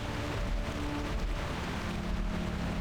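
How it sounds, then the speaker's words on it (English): Rain falling in World of Warcraft: Mists of Pandaria, a steady, even hiss of downpour with a low rumble beneath and faint sustained tones, unbroken and without voices. "Let's get out of the rain"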